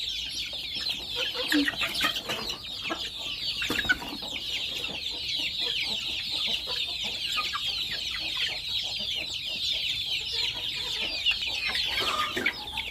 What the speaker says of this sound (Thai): ไก่ก็อยากกินข้าวเซลเซลอยู่